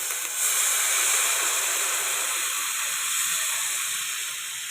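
Water is poured into a hot pan of salted upma, giving a loud, even hiss of steam and sizzle that fills the whole moment and slowly eases off near the end, with no talk over it.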